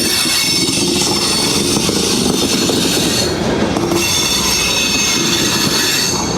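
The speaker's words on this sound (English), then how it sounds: "there comes the tail end of our train" A freight train rolls past up close, its wheels squealing loudly and steadily against the rails as the tail end goes by, with faint rhythmic clatter underneath and no voices.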